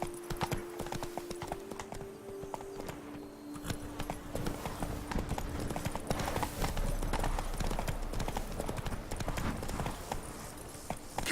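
Roach, the horse in The Witcher 3: Blood and Wine, clip-clops along in a steady, rhythmic run of hoofbeats. The sound is moderately close and carries on without a break, with a brief whinny-like tone early on.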